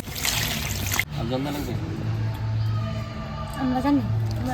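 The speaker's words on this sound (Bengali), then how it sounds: "এবার জলটা দিয়ে দিই" Water is poured into a pot of home-cooked desi chicken and potato curry, a rushing splash in the first second that gives way to a faint trickle under a person talking.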